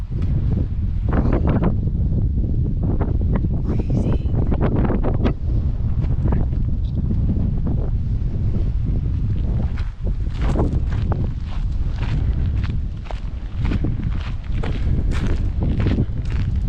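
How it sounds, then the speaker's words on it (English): Strong, icy wind blows across Craig's Hut, a mountain hut at Mt Buller. Loud gusts buffet the microphone continuously, with occasional rustling and knocks and no speech. "Oh, she's icy. Antarctic wind blowing through."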